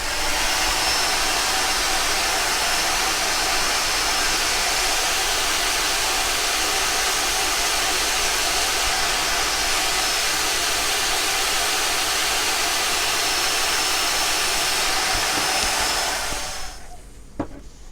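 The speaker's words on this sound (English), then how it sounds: "I might just suck that out with a vacuum cleaner though." A vacuum cleaner runs continuously and loud as it sucks rust and debris out of an old Kriesler 11-7 valve radio under restoration, its steady broadband roar holding for about sixteen seconds before cutting off abruptly.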